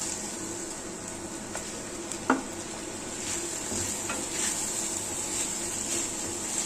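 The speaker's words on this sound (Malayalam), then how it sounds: "തക്കാളി നല്ലപോലെ ഇളക്കി അങ്ങോട്ട് കൊടുത്ത് അതൊന്ന് വഴറ്റിയെടുക്കാം" Chopped tomato stirred and sautéed with onions in a pan for chicken curry, a soft steady sizzle with faint scraping stirs and one sharper utensil clink near the middle.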